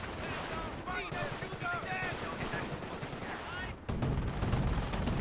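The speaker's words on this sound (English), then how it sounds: "and they are shooting their gun" Rapid bursts of rifle and machine-gun fire crackle through a Company of Heroes battle, dense and continuous, with a sharper, heavier volley near the end beneath game voice effects.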